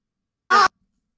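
A single short burst of a reversed vocal chop sample, a bright, swelling smear of voice lasting about a fifth of a second, then silence.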